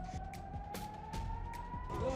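Emergency sirens wail steadily after a ballistic missile strike on the Israeli city of Arad, holding a sustained rising tone over a dense background rumble.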